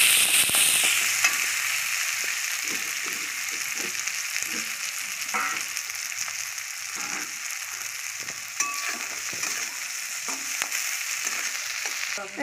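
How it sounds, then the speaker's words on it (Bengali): Onions fry in hot oil in a wok with a loud, continuous sizzle, broken by occasional stirring clinks and pops, and no talking. "এই যে কড়াইয়ে গরম তেল হয়ে গেছে, তেলে পেঁয়াজ ছেড়ে দিয়েছে। পেঁয়াজটাকে ভাজা ভাজা করে নেবে।"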